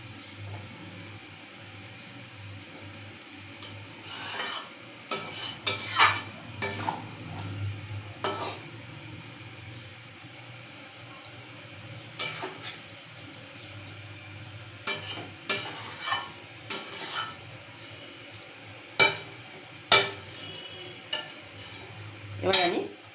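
Egg korma stirred gently in a pan after garam masala goes in: quiet simmering bed broken by irregular bursts of spoon-on-pan scraping and clinks, close and intermittent, without speech.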